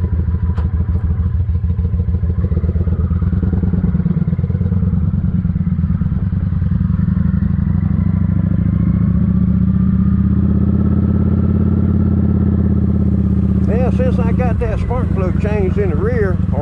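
A 2007 Kawasaki Vulcan 900 motorcycle with restrictor plates removed rides down the road, its engine droning loud and steady throughout with a low rumble, and someone talking near the end.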